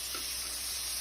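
Burger patties sear in a hot pan, a dense, continuous sizzle that stays close and loud for the whole short moment, with no voices.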